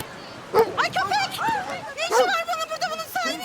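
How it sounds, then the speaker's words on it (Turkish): A dog barks in short, sharp bursts and yelps close by, several times in quick succession, with a higher whining edge. "Ya havlıyor bu bana."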